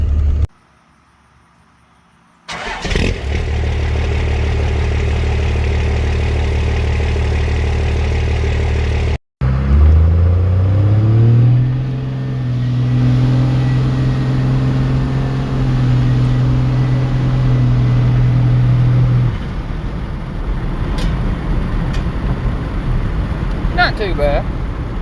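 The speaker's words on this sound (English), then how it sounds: "I forgot to mention the truck is straight pipe" A straight-piped truck engine fires up after a burst of noise and revs, rising to a loud, steady, deep drone that holds for several seconds before dropping back to a rougher rumble.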